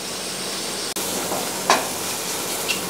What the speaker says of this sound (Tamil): இப்போ வெங்காயம் நல்லா கோல்டனாக வதங்கினதுக்கப்புறம் மஷ்ரூமை வந்து நல்லா கோல்டனாக வதக்கிடலாம்.